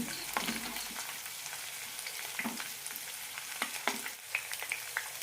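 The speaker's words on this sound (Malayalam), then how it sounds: "വെളുത്തുള്ളി ചെറുതായി ചോക്കുമ്പോൾ തക്കാളി ഇടാം" Tomatoes frying in oil with garlic and green chili for a tomato pickle, a steady close sizzle broken by scattered crackles and the scrape of stirring, with no voices.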